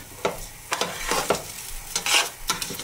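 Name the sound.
rice frying and being stirred in a pan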